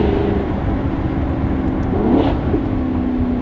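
Maserati GranTurismo MC engine droning steadily as the car drives, with a smooth, continuous hum that swells slightly mid-way as it picks up speed, heard from inside the cabin with no talking.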